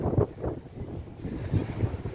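Wind buffets a Sun Odyssey 35 sailboat at anchor off Gruissan, a rough, gusty rumble on the microphone with soft surges of water and no voices.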